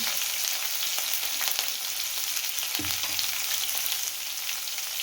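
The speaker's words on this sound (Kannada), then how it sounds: "ನಾನಿಲ್ಲಿ ಹಸಿ ಮೆಣಸಿನ್ಕಾಯಿ ಕಟ್ ಮಾಡಿ ಇಟ್ಕೊಂಡಿದ್ದಲ್ಲ ಅದು ಹಾಕೊಳ್ತಾ ಇದ್ದೀನಿ" Chopped green chillies fry in a pan over a medium flame while veg hakka noodles are being made. The sizzle is steady and even, with a single soft thump partway through, and no one speaks.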